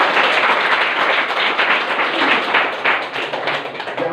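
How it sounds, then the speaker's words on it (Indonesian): A group of people applauds together at a children's play-and-learn session, producing loud, dense, continuous hand clapping that holds throughout, close and energetic, with no speech over it. "Tepuk tangan untuk kita semuanya,"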